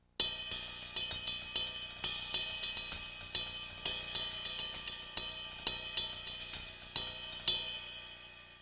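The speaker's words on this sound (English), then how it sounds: "when I apply that to the hi-hat and the ride in triplet pattern" Drum kit hi-hat and ride cymbal played in a steady triplet pattern using a double paradiddle sticking: a fast, even stream of crisp, bright cymbal strikes with clear accents and short ringing decays, close and unaccompanied, with no voices.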